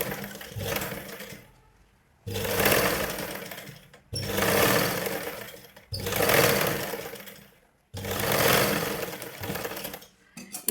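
Sewing machine stitching blouse fabric in five loud, close runs, each lasting about two seconds and separated by brief quiet gaps.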